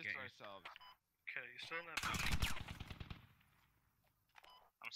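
Rapid automatic gunfire bursts out in the military shooter game Squad, a loud dense rattle lasting about a second amid radio-style voices talking before and after.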